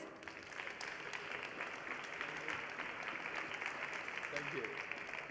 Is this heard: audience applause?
yes